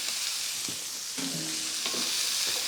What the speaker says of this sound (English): So right now, the benefit here is we're deglazing the pan.